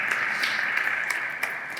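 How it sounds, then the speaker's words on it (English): Applause from a seated audience at a talk on machine learning and creativity, a steady wash of clapping with a few sharper claps standing out, moderately distant and tapering slightly toward the end. "big round of applause for Sam Snider-Held"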